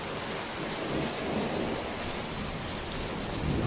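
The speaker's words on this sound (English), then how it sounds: "there's a thunder and lightning storm going on right now" Heavy rain pours without a break during a thunderstorm, heard from a back porch as a loud, dense hiss, with a low rumble of thunder swelling beneath it.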